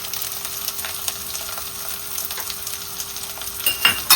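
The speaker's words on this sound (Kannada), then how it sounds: "ಸೊ ಒಮ್ಮೆಲೆ ಇದನ್ನು ಫ್ರೈ ಮಾಡ್ಕೊಳ್ತೀನಿ" Beans, capsicum and carrot frying together in a pan, an even close crackling sizzle with brief stirring scrapes and a few louder knocks near the end, no one speaking.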